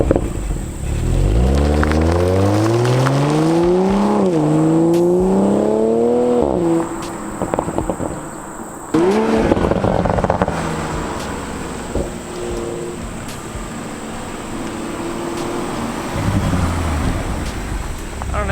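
A 2020 Toyota Supra with only 155 miles revs hard and does a burnout, the engine pitch climbing and falling in repeated surges, with heavy wind buffeting on the microphone and a rough, noisy stretch afterward.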